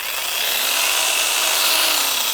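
A Leader 20V cordless saw with a 10-inch bar running steadily and loudly at high speed, a continuous bright whine holding through the whole stretch, with no speech over it.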